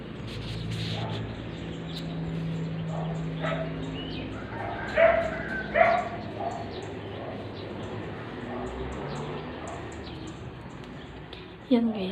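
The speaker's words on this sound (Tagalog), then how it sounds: "Ang ingay ng aso." A dog indoors gives a few sharp barks and yips, two prominent ones midway and another near the end, with people talking quietly over a background hum.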